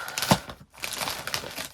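Plastic bags are handled and crinkled while a craft room is sorted, giving a close, irregular series of rustling, crackling bursts with a brief pause in the middle.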